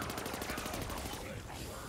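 Rapid automatic gunfire from a weapon in the Call of Duty-style zombies map Origins 2, a steady burst of shots running through the whole stretch, loud and close, with a voice faintly mixed in underneath.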